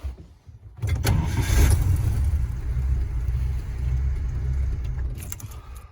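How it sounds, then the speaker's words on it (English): An old car engine with a hot-starting problem cranks for a moment, then catches and settles into a steady, rumbling idle, close by. "You hear that longer cranking."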